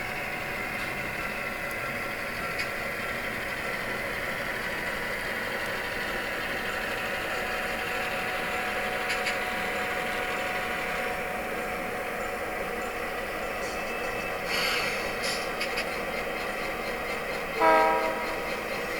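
A Blunami-equipped model train runs steadily around its cut of cars on a layout, giving a continuous low rumble with a brief louder horn-like blast near the end.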